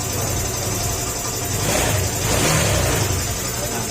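A motorcycle engine runs after a compressor repair, a steady broad rumble with a slight rise in revs midway.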